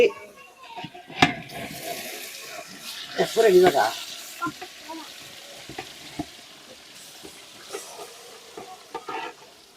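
Meat tipped into a large pot of hot oil while cooking for about forty people, a burst of loud sizzling and clattering on entry that settles into an uneven frying crackle, with voices around it.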